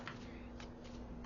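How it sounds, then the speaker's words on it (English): Gilded Tarot cards being shuffled by hand, a quiet brief riffle with soft repeated flicks over a low background hum. "We'll shuffle this up again."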